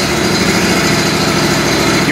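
A Toro stand-on aerator's small engine idles indoors at low RPM, a loud, steady buzzing drone with an even throb, heard close up with a voice speaking over it.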